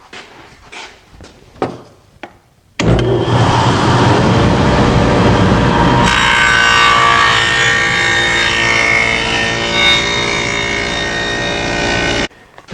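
A table saw fitted with a dado set cuts a rabbet in wood for a TV stand. A few faint knocks come first, then the saw runs loud and continuous for about ten seconds, its tone shifting as the blade bites, before stopping abruptly.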